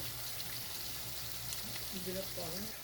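Tomato masala with crushed cumin fries in a pot with a steady, soft sizzling hiss throughout, and someone speaks briefly near the end.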